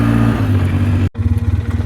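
A 2006 Polaris Sportsman 800 ATV engine runs loud and close with a steady low rumbling idle, cuts out for a moment, then returns with an uneven, pulsing chug.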